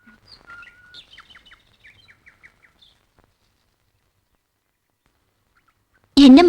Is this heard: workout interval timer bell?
no